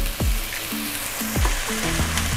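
Spices and bay leaves sauté in an oiled pan with a continuous sizzle, punctuated by a few sharp clinks and scrapes of a spatula against the pan.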